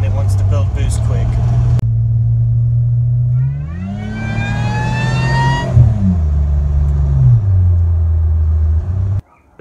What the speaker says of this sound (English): Here's just giving it a little bit of gas.